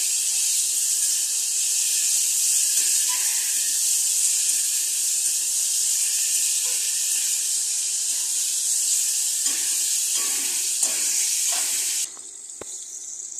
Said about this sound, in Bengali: পোড়া করে একটু ভাজবো